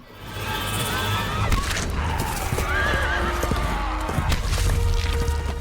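Horses neigh and whinny loudly over clattering hoofbeats and trampling in a chaotic zombie battle scene from a period action film, with a steady roar of action noise throughout.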